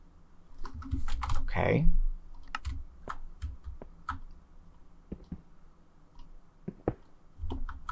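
Keyboard keys clatter in short bursts while text goes onto a sign in Minecraft, the clicks close and crisp, with a brief spoken word partway through.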